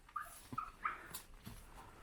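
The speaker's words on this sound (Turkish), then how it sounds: "Böyle köpekler de size havlıyor zaten." A few short dog barks and yips in a village, fairly faint and scattered, with a whimpering quality against a quiet background.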